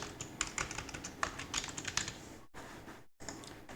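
Quick typing on a computer keyboard with copy and paste shortcuts, a close, busy patter of key clicks with a couple of brief silent gaps.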